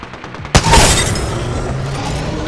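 Gunfire in the shooter game Apex Legends, with Kraber and Devotion weapons: a sudden loud blast followed by a dense, sustained roar of shots and effects that fills the rest of the moment.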